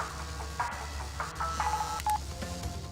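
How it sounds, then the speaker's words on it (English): Short electronic phone-like beeps ring out twice over busy video game music and effects during a Crash Bandicoot: Warped boss fight, with no one speaking. "I thought that might have been my phone."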